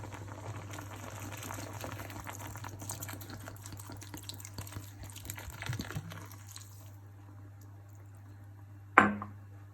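Rabbit stew simmers in a pot of equal parts beer and water, a steady bubbling hiss under a low hum that thins out near the end before one sharp clatter.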